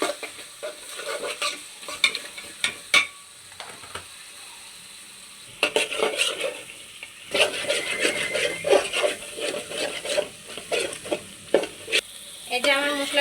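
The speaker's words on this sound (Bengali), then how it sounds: "এই যে আমার মশলাটা ভালো করে কষানো হয়ে গেছে" Chili and turmeric spice paste sizzles in oil as it is sautéed for biryani, a close frying hiss broken by repeated scraping stirs of a spatula against the pot that grow busier over time.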